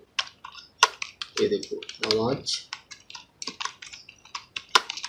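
Fingers clatter on a computer keyboard in an irregular stream of sharp clicks, close and clear, while someone talks briefly over the keys.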